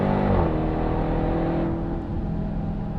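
A 2021 Dodge Durango SRT Hellcat engine pulls hard on a racetrack, a loud, close, steady roar with a slight shift in pitch partway through.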